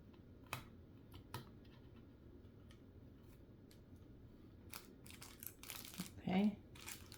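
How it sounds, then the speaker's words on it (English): Backing strips being peeled off double stick tape from Dollar Tree, heard as sparse close crinkly clicks and taps that build into a louder ripping, rustling burst near the end, with a brief voice in the background. "with double stick tape, all you have to do is peel it back"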